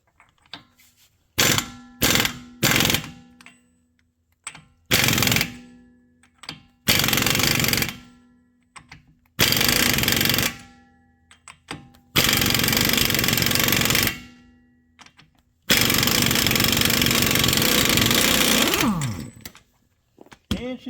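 An air-powered impact wrench hammers at a stuck nut in a garage, firing in a series of loud rattling bursts that grow longer, separated by short silences, close to the listener.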